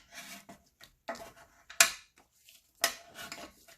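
Paper rubbing and scraping as a tag is folded down to make a junk journal tag notebook, with a few sharp creasing strokes among softer shuffling, close up and in short bursts.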